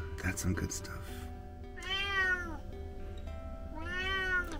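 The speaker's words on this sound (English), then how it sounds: "I told my cat to go into the garage while I was shooting some video, but now he wants to come outside" A cat meows insistently from inside a garage while a van-life traveler is in France, two drawn-out plaintive meows spaced apart, moderately close, with a brief burst of other noise at the start.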